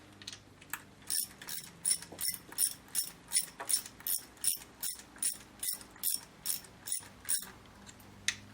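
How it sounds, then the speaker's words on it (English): A hand ratchet clicks in quick, regular bursts, snugging the cylinder head bolts on a Mercedes W202 C280 M104 engine. The sound is close but fairly quiet, with no voices. "And just snug the bolts, don't tighten them."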